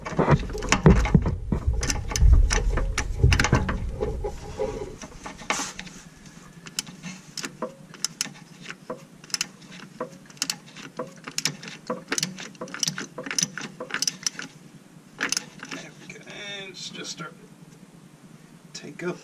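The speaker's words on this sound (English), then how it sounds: "So I'm going to get the socket on." Socket ratchet clicks in irregular bursts while fastening a part on a GM 4.2L engine in an Envoy/Trailblazer, close and crisp over a low hum, with someone talking at times.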